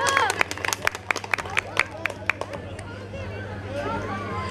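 An audience at a village spring festival claps, first in sparse sharp individual claps and then a softer spreading patter, with crowd murmur and some talk underneath.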